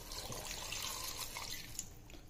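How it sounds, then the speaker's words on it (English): Water pouring into a pot of pumpkin soup, about a liter added after stirring, a steady splashing trickle at close range with no talk over it. "Now after approximately 5 minutes of stirring, we will add the water."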